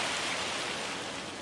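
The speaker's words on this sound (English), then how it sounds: "of course it is raining" Steady rain falls in Farming Simulator 25, a dense, even hiss of drops on surfaces that holds constant and fills the whole moment without any talk.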